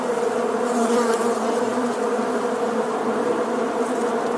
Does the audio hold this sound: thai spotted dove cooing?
no